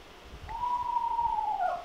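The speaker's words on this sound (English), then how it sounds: "That's a screech owl, the horse whinny." Screech owl giving its horse-whinny call: a single drawn-out whistled note that starts thin, holds steady and slurs downward at the end, fairly faint over a low background rumble.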